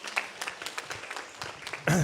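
A crowd claps for children after a cultural program concert at the Bhavani Shankar temple, scattered claps with a voice speaking over them, then a louder burst near the end.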